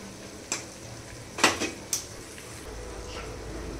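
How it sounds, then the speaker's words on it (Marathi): Onions fry in a pan for biryani, a quiet steady sizzle under a few sharp scrapes and clanks of a spoon stirring against the pan, heard close with no talking. "तर कांदा असा छान फ्राय करून घ्यायचा आहे"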